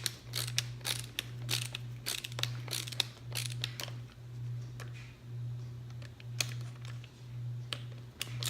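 Screwdriver tightening screws on an Andis hair clipper: a series of sharp ratcheting clicks and scrapes in irregular bursts, close and fairly quiet over a steady low electrical hum.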